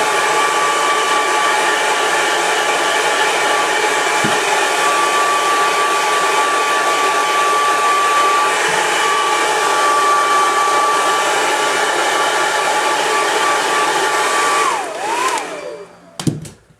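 Hair dryer blowing steadily on a rifle lower receiver during a cold-weather lubricant test, a loud continuous whirring drone held for many seconds before it cuts off with a clunk at the end; close, no talk.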